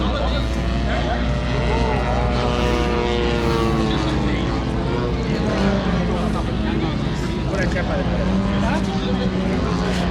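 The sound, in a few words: remote control model propeller aircraft flying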